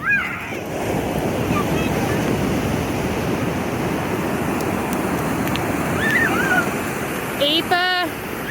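Ocean surf rolls steadily onto an Oregon coast beach, a loud, continuous roar of breaking waves with wind buffeting the microphone, while children's voices call out briefly near the end.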